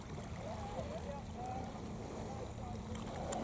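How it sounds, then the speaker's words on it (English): A boat moves on open water in a coastal area, heard as a steady low rumble mixed with wind buffeting across the microphone. Faint distant voices sit in the background throughout. "There's been a boat scouring that area recently."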